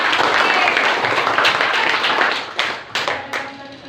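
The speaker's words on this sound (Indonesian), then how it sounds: "Ya, tepuk tangan dulu" A classroom of students clapping their hands during an open social studies lesson, a dense burst of applause that thins into a few separate claps near the end.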